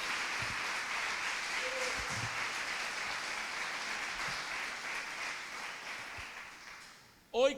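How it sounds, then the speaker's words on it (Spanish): A congregation at a Thursday church meeting applauds, a broad, steady wash of clapping that gradually fades, with a voice rising briefly at the very end. "Dele un fuerte aplauso al Señor."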